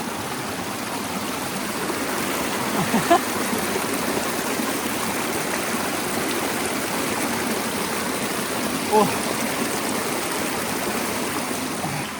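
Icy river water flows steadily in a close, continuous rushing stream with a couple of faint splashes, no talking.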